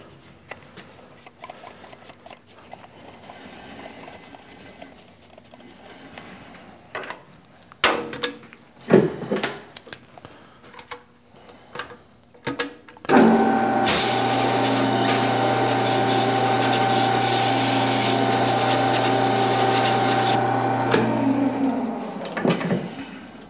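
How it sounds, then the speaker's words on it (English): A deburring tool scraping the thread edge of a toolpost grinder wheel arbor: light intermittent scratches and clicks, then a steady loud whirring of a running machine with a continuous rubbing hiss for several seconds before stopping. "one more little pass with the deburring tool just to clean up the edge of the thread"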